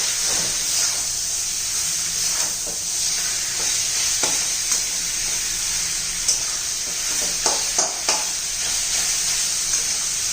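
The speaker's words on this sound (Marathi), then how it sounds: "चांगले एखादा मिनिटभर चांगली परतून घेऊया आपण" Cooked red amaranth leaves sauté in a hot pan, a steady close hiss of sizzling broken by irregular scraping and tapping strokes of a spatula stirring them, with no voices.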